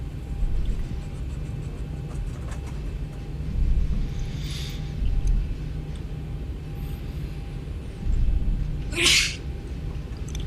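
A sneeze bursts out once near the end, preceded by a softer sniff or breath earlier, over a steady low cockpit hum during a flight simulator session.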